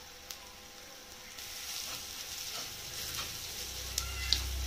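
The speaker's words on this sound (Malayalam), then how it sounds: "ചെറിയ ഉള്ളി, വെളുത്തുള്ളി ഇതെല്ലാം കൂടെ വഴത്തിക്കൊണ്ടിരിക്കുകയാണ്." Crushed ginger, garlic and shallots sauté in a pan for a snakehead fish curry, giving a soft, steady sizzle with faint stirring clicks and no talking.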